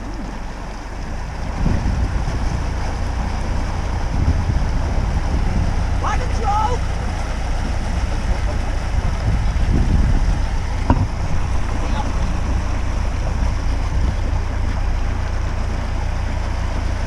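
A horse-drawn narrowboat moves slowly through canal water under constant rushing wind and engine rumble, with a few faint clunks and splashes along the way.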